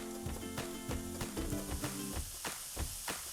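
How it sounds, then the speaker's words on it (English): Garlic and onions frying in a pan for Parsi prawn patia, a constant quiet sizzle broken by repeated clinks and scrapes of stirring, fairly close. "Now the garlic needs, I'd say, no more than a minute to just fry in the pan"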